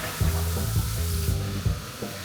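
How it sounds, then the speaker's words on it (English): Jasmine rice frying in hot oil makes a continuous close sizzle, with rhythmic scraping and stirring strokes sounding throughout. "We start frying the rice, and I'm gonna add 2 cups of jasmine rice."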